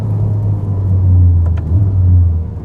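A 1000 HP Ferrari accelerating on a public road, heard from inside as a loud, deep, steady engine rumble that swells slightly midway.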